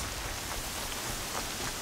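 Heavy rain falls steadily in the video game Horizon Zero Dawn, a dense, loud, even wash with scattered drop patter and no talking.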